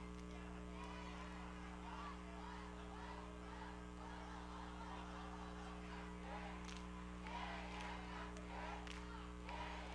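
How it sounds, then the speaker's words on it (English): Crowd noise from the stands at a night high school football game, North Mason at Bremerton, a steady distant roar with scattered cheers over constant low hum. "Excited crowd out there tonight"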